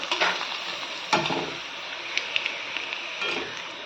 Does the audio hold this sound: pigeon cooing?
no